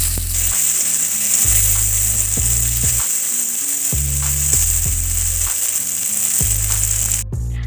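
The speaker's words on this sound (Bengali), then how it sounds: "ওই সর্ষের তেলে এগুলোকে এবার ভেজে নেব" Onions and tomatoes frying in mustard oil for a dried-prawn curry give a steady, close, loud sizzle with a bright hiss that runs unbroken throughout, with no voices over it.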